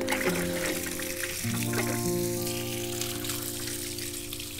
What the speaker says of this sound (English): This is a big planter, so I'm going to put a couple of gallons of water